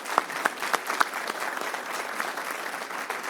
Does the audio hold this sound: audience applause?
yes